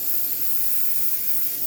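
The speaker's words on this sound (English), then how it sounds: "So I'm gonna spray this on." Steady aerosol spray paint hissing continuously onto a sculpture, close and even with no breaks, and no voices.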